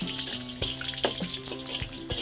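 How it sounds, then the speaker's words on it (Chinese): Ginger slices stir-frying in hot lard in a wok for a Sichuan dish, a soft steady sizzle with several sharp scraping stirs of the spatula, close by and without talk. "来，我们把姜片下去给它炒香，"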